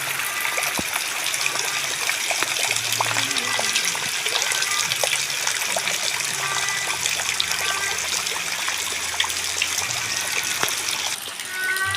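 Rainwater flowing into a Kerala house courtyard during flooding, a loud continuous gushing trickle of running water close by, steady throughout with faint voices underneath.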